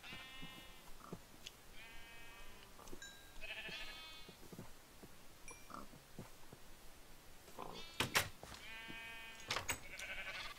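Sheep in the video game Minecraft bleat repeatedly, several short wavering calls spread through the scene over a faint background of game noise, with one louder burst near the end.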